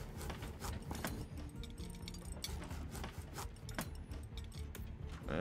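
Crafting bolts in the video game Voidtrain produces quiet mechanical clanks and ratcheting, gear-like clicks in a busy, rhythmic patter with sharp tapping transients, no voices.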